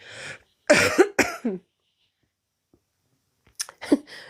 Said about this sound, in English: Human's going to cough again.